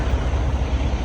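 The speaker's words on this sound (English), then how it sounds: "There's that truck I was talking about." A truck with a custom paint job rumbles by on the road, a low, heavy engine drone that stays steady and fairly loud through the short moment, with no talking.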